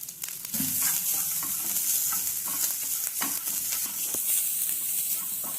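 Almonds and coconut fry in ghee for a sago and lentil payasam, a close, continuous crackling sizzle with frequent spoon stirs and scrapes and no talking.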